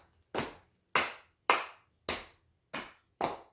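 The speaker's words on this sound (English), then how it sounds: "We're gonna pat the knees twice," Six crisp, separate hand slaps in a children's yoga class, alternating knee pats and claps in a slow, steady rhythm, close and clear with silence between each hit.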